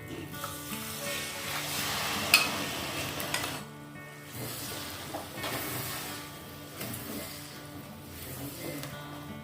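A mixed spice paste for butter chicken hits hot oil with a bright sizzle, then settles into softer frying with occasional clinks of a utensil against the pan.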